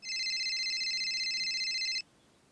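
A telephone rings with a steady electronic warble, loud and close, holding for about two seconds before cutting off into quiet room tone.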